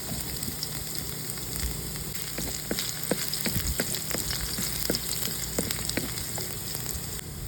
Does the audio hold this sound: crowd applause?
no